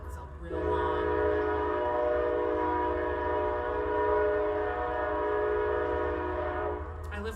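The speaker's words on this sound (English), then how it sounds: "I live by a train." A train passes close by with a long, loud, steady horn blast lasting several seconds over a deep rumble of the rail cars, the horn cutting off just before the end.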